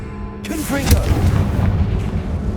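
An explosive Confringo blasting spell goes off in Hogwarts Legacy, a sudden loud boom that bursts in and then rumbles and crackles away over the next couple of seconds.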